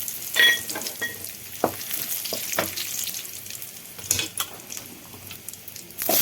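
Dried red chillies fry in oil for a vallarai keerai chutney, a steady close sizzle with occasional scrapes and taps of a spoon in the pan.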